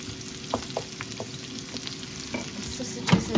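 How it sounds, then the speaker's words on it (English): Onions frying in a pan, a steady close sizzle with intermittent stirring scrapes and light clinks, no voices. "I've got my onions in frying now"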